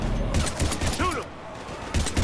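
Rapid bursts of gunfire in Mass Effect 3 crackle in short clusters around a brief burst of voice chatter during a frantic firefight.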